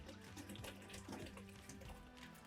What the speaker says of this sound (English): we're going to get some warm, not boiling water in jug, and we're simply going to fill this into the bubble tube